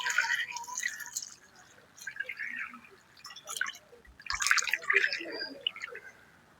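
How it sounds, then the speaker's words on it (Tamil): Water is poured over a big lobster to wash it, splashing and dripping in several short, close bursts separated by brief quieter gaps. "வடிவா முழுசாவே அப்படியே கழுவி எடுப்போம்"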